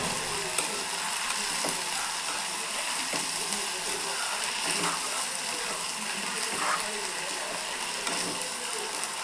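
Fenugreek greens and onion sizzle in a pan while being stirred, a steady crackling fry with scraping, rattling stirs throughout, close and moderately loud.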